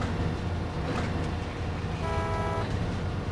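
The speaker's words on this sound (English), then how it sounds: "I hear a honking, but I don't see him anywhere." A truck horn honks in SnowRunner, a steady tonal blast lasting under a second over a continuous low engine rumble, with the vehicle churning through deep mud.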